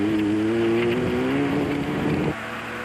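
A Toyota Hilux Class 5 rally truck engine roars loud and close, a sustained droning note that holds steady then drops as the revs shift.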